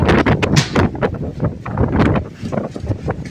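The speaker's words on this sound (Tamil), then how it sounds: "ரொம்ப காற்று அடிக்கிறது, காற்று மழை." Strong wind with rain gusting hard against the microphone in Theni, a loud, continuous roaring rush with buffeting bursts and no speech.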